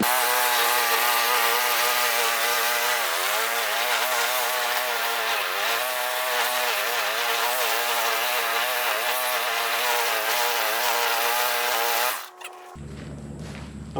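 A Cub Cadet string trimmer runs at a steady high whine during mowing, loud and close with a slight wavering in pitch for about twelve seconds before cutting off abruptly.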